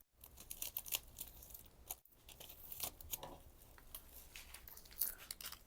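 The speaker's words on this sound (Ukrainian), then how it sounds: "І скотчиком фіксуємо." Adhesive tape pulled off the roll and torn to secure a protective cover inside a Daewoo Lanos interior before painting it black; repeated close, rasping rips and crinkles in irregular bursts, with no talking.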